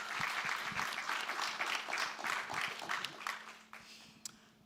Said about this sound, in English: I heard y'all clapping.